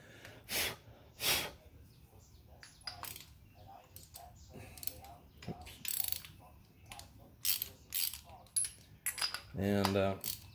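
A ratchet wrench removing spark plugs from a 1980 Midnight Special motorcycle engine: short bursts of clicking separated by pauses, close up and moderately loud, ending with a brief buzzing rasp.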